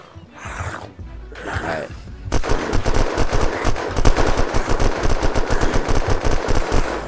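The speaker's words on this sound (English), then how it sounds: "now shoot that floor." Rapid automatic gunfire in the video game Unturned, fired at a floor during a base raid: a couple of shots, then a sustained loud burst of closely spaced bangs, with a brief spoken word.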